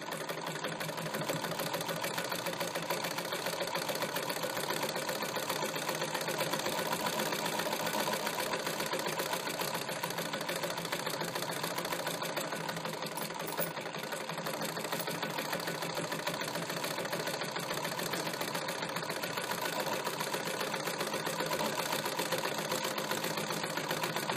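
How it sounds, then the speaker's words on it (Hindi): A sewing machine runs a second parallel line of double stitching on a single katori blouse, a steady, even mechanical whirr with rapid needle clatter sustained nearly unbroken throughout. "इससे थोड़ा दूर में हम फिर सिलाई करेंगे डबल सिलाई"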